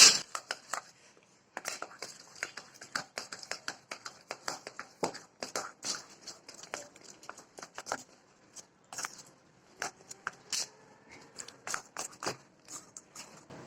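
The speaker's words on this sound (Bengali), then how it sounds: "আমি এখন আলতো হাতে এটা মিশিয়ে নিব" Chocolate cake batter of flour and milk being gently folded by hand in a bowl, heard as soft, irregular scraping and tapping of a utensil against the bowl, quiet and close, with brief pauses.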